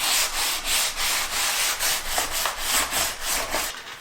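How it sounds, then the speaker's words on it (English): Wood is sanded by hand with 220 grit sandpaper wrapped around a sanding block, giving close, rhythmic back-and-forth scratchy strokes, about two per second, with no voices. "I'm going to be using some 220 grit sandpaper. I'm going to wind it around the block."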